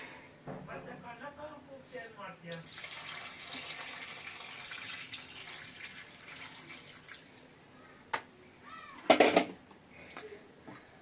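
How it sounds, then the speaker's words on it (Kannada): Water pours steadily into a pot for several seconds while cooking, a continuous splashing rush, with a voice speaking before and a few clinks near the end. "ಇವಾಗ ನೀರು ಹಾಕ್ತಾ ಇದ್ದೀನಿ"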